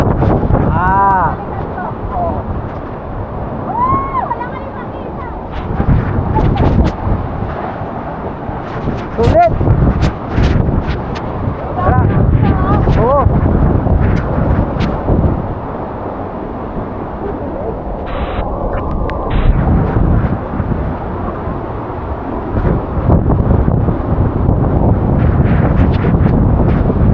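Strong wind buffets the microphone at a waterfall, a loud roaring rush that runs the whole time under occasional voices.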